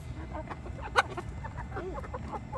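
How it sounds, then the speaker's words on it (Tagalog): Chickens clucking softly at close range while being fed, with one sharper squawk briefly rising above the low, busy murmur of the flock. "Ayan ang mga matatakaw na manok"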